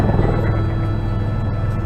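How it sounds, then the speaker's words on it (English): A sightseeing helicopter over Niagara Falls, heard from inside the cabin as a steady, loud low drone that never lets up. "This is the quietest helicopter of its class in the world."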